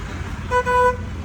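A single car horn toot of about half a second blares close by on a road, over a low rumble of passing traffic.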